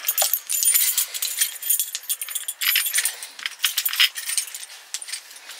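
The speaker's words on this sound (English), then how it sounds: "I'll get the keys here just to show you." A set of keys for Milenco motorhome door locks jangles and clinks close by, a bright metallic rattle in dense bursts lasting several seconds, with no talk over it.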